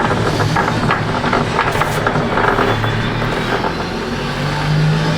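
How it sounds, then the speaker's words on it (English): A car engine roars steadily in a racing video game played on a Logitech G923 steering wheel, heard from a close-up road camera view as a continuous, fairly loud drone with shifting pitch. "You also get a better sound coming from the engine with that camera as well"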